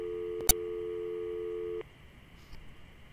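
A telephone call tone in the adventure game Syberia: a steady electronic tone holds for nearly two seconds after a brief click, then cuts off, leaving a quiet line hiss with a faint blip.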